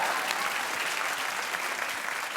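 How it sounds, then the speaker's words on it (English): Studio audience on a daytime talk show clapping steadily, a dense, even wash of applause filling the whole stretch with no voices standing out. "You can clap for that"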